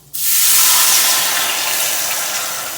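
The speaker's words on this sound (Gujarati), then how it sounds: "હવે અંદર પાણી ઉમેરીશું" Water poured into a hot spiced tempering of methi masala for a Gujarati bottle gourd and chana dal curry, bursting into a loud, sudden hiss of steam that slowly fades over a few seconds, with no talking.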